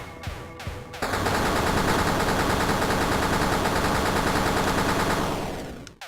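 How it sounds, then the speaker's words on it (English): Railgun shots striking a boss in Escape From Tethys: a dense, loud barrage of rapid-fire blasts running almost unbroken for several seconds before cutting off abruptly. "Those 9 railgun shots brought him down a lot."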